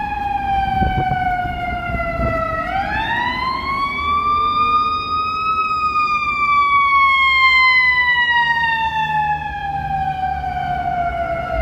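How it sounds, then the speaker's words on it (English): An ambulance siren on a city street along the Chicago River on a cold January day sweeps and wails loudly, its pitch rising then slowly falling as it passes close by over traffic rumble. "We got some sirens coming by here"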